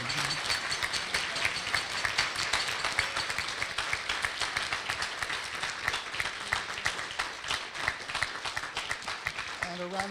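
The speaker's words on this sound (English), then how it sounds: "And please, let's give them a big round of applause" An audience gives standing students a big round of applause at a spring awards gathering, with dense continuous clapping lasting around ten seconds and a voice returning briefly at the very end.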